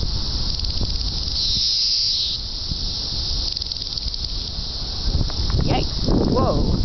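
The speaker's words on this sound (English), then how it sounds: "office has been invaded by cicadas." Cicadas that have swarmed an office drone in a loud, steady high-pitched buzz, with a brighter surge near the start and rustling and handling noise toward the end.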